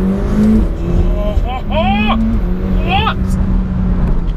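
A McLaren 720S supercar's 4-litre twin-scroll turbocharged engine roars as it accelerates hard, pitch climbing through quick gear changes, with a person speaking briefly over the loud engine noise.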